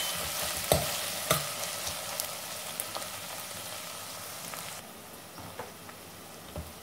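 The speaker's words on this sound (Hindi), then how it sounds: "सबसे पहले ऑयल में 4-5 कांदे लिए हैं मैंने, इसे मैं थोड़ा ब्राउन करूँगी। कांदों को हल्का सा भून लेते हैं।" Four or five onions sizzle and crackle in hot oil as they brown in a pan for Sindhi-style mutton curry, a dense steady hiss with a few sharp pops and spoon taps, close and moderate, no voices.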